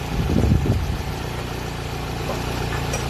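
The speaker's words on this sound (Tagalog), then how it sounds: "Ayan, tahimik po sir, yun yung makina." A Toyota Camry engine that had loose compression and a rebuild idles smoothly during break-in, a steady low hum with a radiator fan running, preceded by a brief louder rumble at the start.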